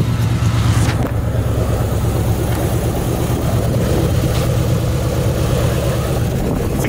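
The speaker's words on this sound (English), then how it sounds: "So the car's running right now." A 1971 De Tomaso Pantera, a California project car, idles steadily with a deep, even low-end rumble that holds loud and close throughout, with no voices over it.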